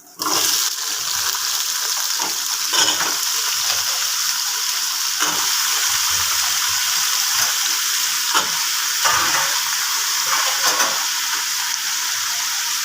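Washed potato and eggplant pieces hit a hot oiled pan with a loud, continuous hissing sizzle that holds steady for several seconds, broken by occasional soft stirring knocks.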